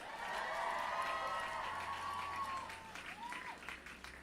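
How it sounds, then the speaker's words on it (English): Audience applause for NPR during a livestream, a steady wash of clapping and crowd noise that holds strong for about three seconds and then thins out, with a faint voice beneath. "give a round of applause to NPR for putting this whole thing on"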